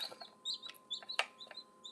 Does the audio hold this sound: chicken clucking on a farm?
yes